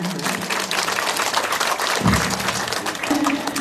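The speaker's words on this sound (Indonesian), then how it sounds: "Tepuk tangan buat Ibu Yohana." A crowd applauds for Ibu Yohana at a village Maulid Nabi celebration, steady dense clapping that holds at a loud, even level throughout.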